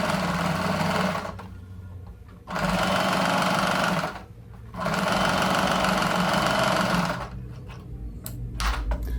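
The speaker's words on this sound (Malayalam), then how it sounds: "ഇപ്പം ഞാനിത് പുറകോ അകത്തോട്ട് മടക്കി വെച്ച് മെഷീനിൽ തന്നെ അടിക്കുകയാണേ" Sewing machine stitching a front-open A-line churidar top, running in two long steady bursts separated by short pauses, then slowing to a few intermittent stitches at the end, close and loud.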